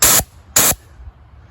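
Two short, loud hissing bursts of bear spray discharging from a canister, each lasting about a fifth of a second with a brief pause between, followed by quiet.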